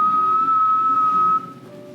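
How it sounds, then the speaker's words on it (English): One loud, sustained whistle holds a steady high pitch for over a second before breaking off, leaving a quieter hum behind. "it'll be a real loud, sustained whistle"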